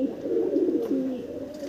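A female Punjabi Malbai pigeon cooing up close, a continuous throaty warble lasting under two seconds, loud and clear with no talk over it.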